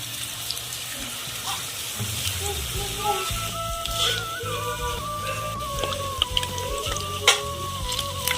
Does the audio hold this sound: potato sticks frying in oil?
yes